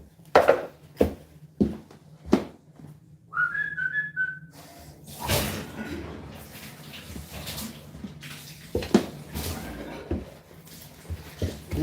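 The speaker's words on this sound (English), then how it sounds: "Can hear all the air coming out the bathroom now" Air sputters and whistles out of bathroom water pipes after a lead pipe repair. A high whistling tone is heard amid irregular hissing bursts, knocks and clatter, at moderate loudness.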